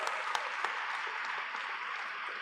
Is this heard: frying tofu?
no